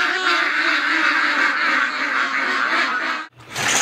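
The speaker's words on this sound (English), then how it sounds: "Good morning, ducks!" Ducks quacking loudly and continuously as a dense flock, close by, with a brief break near the end before the noise resumes.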